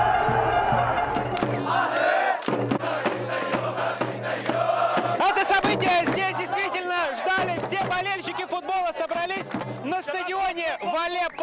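Football fans in the stands at an Al-Ittihad match in Aleppo cheer and chant loudly, a dense crowd roar with rhythmic group shouts surging throughout.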